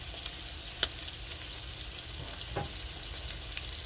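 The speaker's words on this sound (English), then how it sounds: "Fry her up about 3 minutes on each side." Ham steak and potatoes frying in a pan, a constant even sizzle heard up close, broken by a couple of brief taps or clicks.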